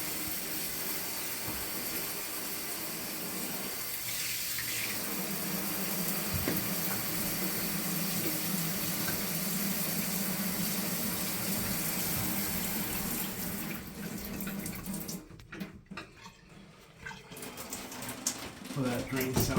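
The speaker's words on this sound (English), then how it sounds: "So that drain sounds good." Water runs into a sink and drains away as a steady gushing wash, continuous for most of the stretch before it breaks into gurgles and splashes near the end.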